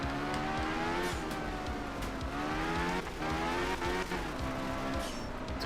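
An Audi rally car driven hard in Art of Rally, its engine revving up and climbing through gear changes in steady repeated pulls, with tire skids and gravel noise close and loud throughout.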